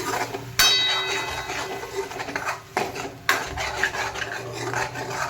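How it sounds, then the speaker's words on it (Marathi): Black masala spice roasts in a pan for a drumstick vegetable dish, heard as rough scraping and rasping of a utensil against the pan, repeated in short bursts at close range with no voices. "आणि व्यवस्थित काळा मसाला आपल्याला असा भाजून घ्यायचा."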